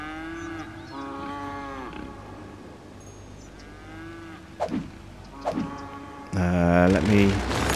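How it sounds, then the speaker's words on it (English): Cows moo repeatedly in the Cities Skylines city-builder game, several drawn-out calls spread across the clip with a louder burst of mooing at the end, a few sharp clicks between them. "And the cows just mooing incessantly."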